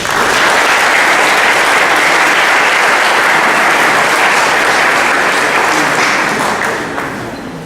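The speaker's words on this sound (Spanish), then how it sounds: "a quien damos un fuerte y caluroso aplauso" Loud, dense applause from an audience at a legal panel discussion fills the room, steady and sustained before fading slightly at the end.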